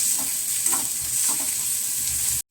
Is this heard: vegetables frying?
yes